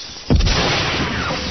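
A gunfire sound effect in an old radio drama as a crystal-towered city is shot down, one sudden loud boom-like blast with a rumbling, reverberant tail that fades slowly, alone without any talk.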